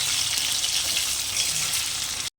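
Potatoes sautéing in oil with salt in a pan give a brief, close, steady hiss of frying that cuts off abruptly.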